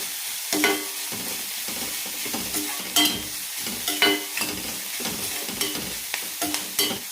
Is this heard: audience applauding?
no